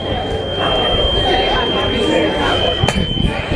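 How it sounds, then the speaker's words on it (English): Fire alarm sounding inside an art museum, a steady high electronic tone ringing continuously throughout under a noisy crowd and voices. "I wish somebody would stop that alarm."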